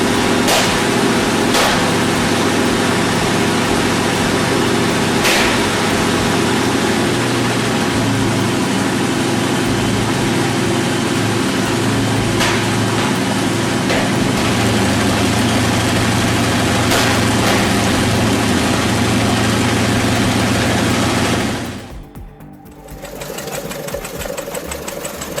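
Vintage Wright Cyclone radial engine from a B-17 bomber runs at a steady, heavy, hammering rumble, loud and close for over twenty seconds before dropping off sharply near the end.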